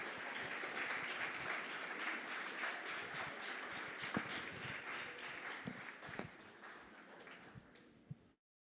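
A church congregation claps for the Lord, a fairly distant, dense round of applause that holds steady and then thins out into a few scattered claps before stopping.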